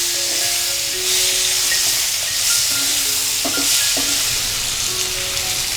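Chopped green chillies and raw tomatoes being stirred in a pan for a Gujarati sambharo, giving a steady close sizzle with soft scraping and a few light clinks of the spoon against the metal.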